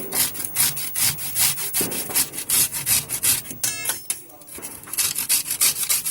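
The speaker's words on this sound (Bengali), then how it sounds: "একটা ঘষুনি দিয়ে এভাবে আমি একটা গ্রেটারের সাহায্যে মূলোটাকে আমি এভাবে ঘষে নেব" A halved radish is rubbed over a hand grater in a home kitchen, making quick rhythmic rasping strokes that repeat steadily and close up, with no talking.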